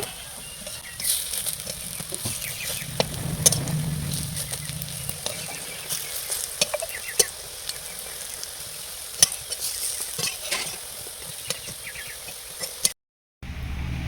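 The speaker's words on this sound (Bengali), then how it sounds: "ভালোভাবে ভেজে নিয়েছি, এবার তুলে নেব। দেখুন 2 পিঠ ভালোভাবে ভাজা হয়ে গেছে।" Pad pata leaf fritters frying in oil in a pan, a continuous crackling sizzle with scattered pops and a brief scraping turn, cutting out abruptly near the end, with no talking.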